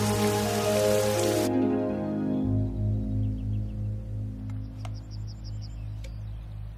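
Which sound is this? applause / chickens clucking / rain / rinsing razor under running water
rain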